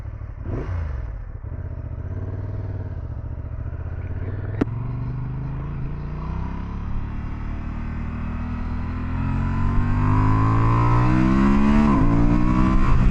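A Honda Transalp 750 climbing a mountain road in standard riding mode, its engine droning steadily close up and then rising in pitch and loudness as it accelerates through the gears, with wind rush throughout.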